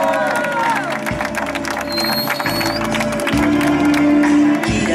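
A festive birthday gathering for a pastor, where a crowd claps and cheers in a steady, dense wash of applause, with shouts and whistles rising through it and a voice calling out over the noise.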